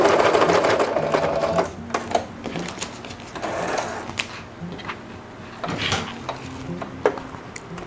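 Sewing machine stitching fabric for a maternity bag, running in a steady fast whir that pauses and restarts in short bursts as it backstitches, with faint clicks and handling knocks between runs.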